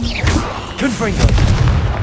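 A Confringo blasting spell in the video game Hogwarts Legacy sounds as loud, punchy booms with a heavy low rumble, overlapping with the spoken incantation and other spell effects.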